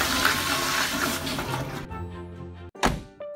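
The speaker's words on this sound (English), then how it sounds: "Flushing by just waving your hand over the motion sensor." A motion-sensor Japanese toilet flushes with a rushing surge of water that runs for nearly two seconds, then drops to quieter refilling trickles and a couple of sharp thunks, heard close with no talking.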